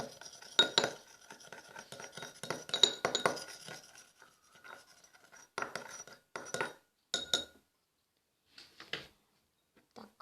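Homemade soap bubble mixture being stirred in a glass bowl, giving bursts of light clinking and scraping taps, busy at first and then sparser with pauses, close by and fairly quiet.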